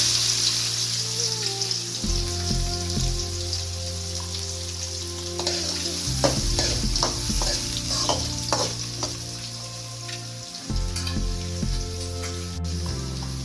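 Onion frying in a pan for a spicy chicken gravy, a steady, close sizzle with bursts of scraping and clattering from stirring partway through, over a low background hum.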